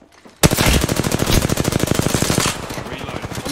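Rapid automatic gunfire in the Apex Legends video game bursts in abruptly and keeps going as a loud, dense, evenly spaced stream of shots for about two seconds, then eases to a lower sustained rattle.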